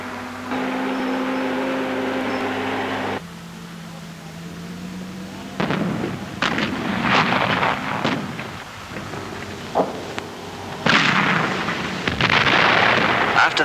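Wartime artillery barrage at the Siege of Tobruk: a droning tone gives way to a series of heavy booming blasts and rumbles, some near and loud, spread irregularly across the stretch.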